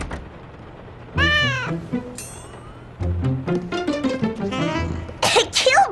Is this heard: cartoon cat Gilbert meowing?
yes